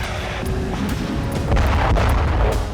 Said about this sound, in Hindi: रोस्तोव में ब्लास्ट की आवाज के साथ ही दहशत मच गई।